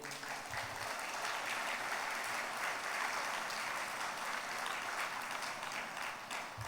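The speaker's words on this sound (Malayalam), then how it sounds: "ഒന്ന് കൈയുയർത്തി കൈയടിച്ച്." Sustained applause from a church congregation during a sermon on prayer, dense, steady clapping filling the space evenly for several seconds without a break.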